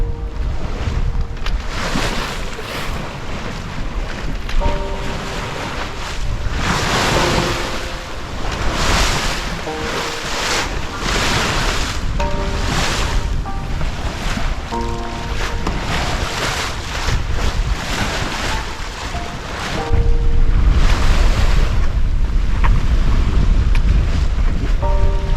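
A sailboat moves across the open ocean, with a constant rush of wind and waves washing against the hull, loud and close throughout, and heavy wind buffeting the microphone that grows stronger toward the end.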